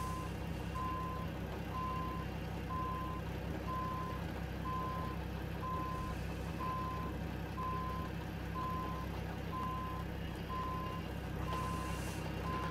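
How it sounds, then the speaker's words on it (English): A Mack R truck backs up, its reversing alarm beeping in a steady, evenly spaced series over a constant diesel engine rumble, with no talking. "It's a little difficult backing up with this truck"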